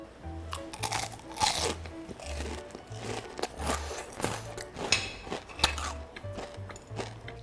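Bites into thinly battered crispy fried food, loud close crunches repeating in an irregular rhythm with chewing between them, and no talking.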